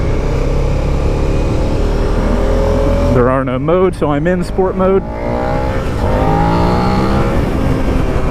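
A 2017 Suzuki SV650 motorcycle's engine under heavy throttle on a highway entrance in sport mode, loud rising and falling revs through gear changes with constant wind roar, while the rider talks over it.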